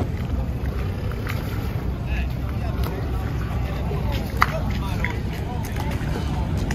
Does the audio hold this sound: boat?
yes